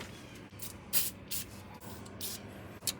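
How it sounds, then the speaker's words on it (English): PB Blaster penetrating oil sprayed onto the rear brake caliper pins of a 2013 Toyota Tundra, heard as several short, close hissing bursts separated by brief pauses. "Start with a little PB blaster."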